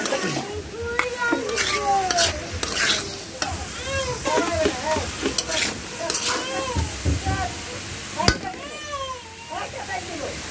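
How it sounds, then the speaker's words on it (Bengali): Olives are tipped into hot mustard oil and fry with a bright crackling sizzle and stirring, while birds chirp nearby and a voice speaks intermittently. "সরষের তেলের মধ্যে জলপাইগুলা ঢেলে দিতেছে"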